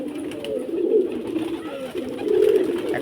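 Soft, low coos from young pigeons repeat in a steady rounded rhythm, fairly close, with faint background noise and no talking.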